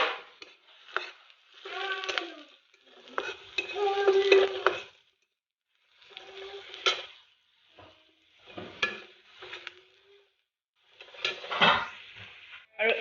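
Onions fried in a pan with half a spoon of turmeric for a small-fish and ginger-leaf dish, stirred in repeated bursts of scraping and sizzle, close and moderate, with short quiet gaps between strokes.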